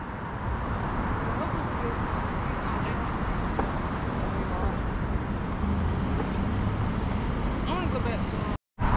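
Steady, dense road traffic noise on a main road in downtown Atlanta, Georgia fills the whole stretch, a constant rumble of passing vehicles with a brief dropout near the end.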